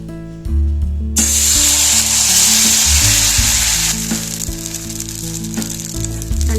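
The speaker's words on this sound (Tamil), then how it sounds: "இப்போ இதில் ஒரு கரண்டி மாவு எடுத்து ஊற்றிக்கலாம்." Ragi appam batter poured onto an oiled iron griddle bursts into a loud, close hiss and crackle after a second of quiet, holding a dense sizzle that slowly eases, with a musical drone underneath.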